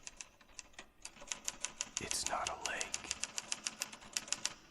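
Typewriter keys clack in a steady, evenly spaced rhythm in the video game Alan Wake, close and crisp, with a whooshing swell in the middle and a voice speaking briefly over it.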